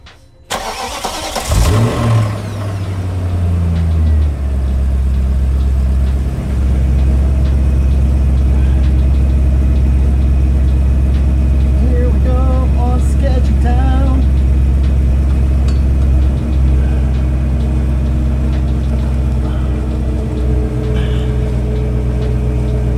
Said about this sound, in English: now we need to go and start the engine